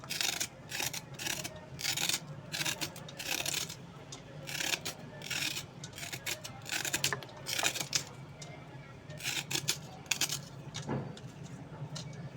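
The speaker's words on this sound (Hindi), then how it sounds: "अब हल्का हल्का सा हम इसको छिलका इसका हल्का हल्का सा उतार लेंगे।" Bitter gourd (karela) skin being lightly scraped and peeled in a kitchen, a run of soft, repeated rasping strokes close by, irregular and fairly quiet, with small clinks between them and no talking.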